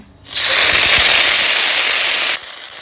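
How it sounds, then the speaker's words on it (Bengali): Green chili, black cumin and ginger hit hot oil as a tempering for a vegetarian masala kunduli, making a loud, steady, close sizzling hiss that lasts about two seconds and then cuts off abruptly. "এই আদার লঙ্কাটা আমি ফোড়ন দিয়ে দিচ্ছি"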